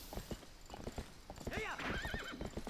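Horse in Zelda Twilight Princess, steady clip-clop hoofbeats throughout with a loud whinny rising and wavering near the end, close, with talking over it.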